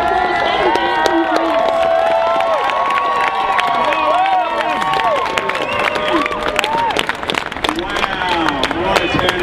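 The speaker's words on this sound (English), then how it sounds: "So round of applause, Adam Bandt" A large crowd at an outdoor same-sex marriage rights rally in Melbourne claps and cheers continuously, with whoops and shouts rising over sustained applause.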